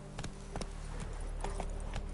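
Roach, the horse in The Witcher III: Wild Hunt, clip-clops along in a steady, evenly spaced hoofbeat rhythm, moderately loud and close over a low ambient hum, with no talk.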